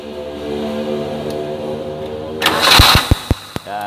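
A car engine cranks with a few sputtering pulses and catches during a spark plug and ignition lead test, loud and close, after a steady engine-like drone.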